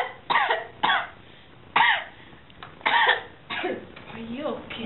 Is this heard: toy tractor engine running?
no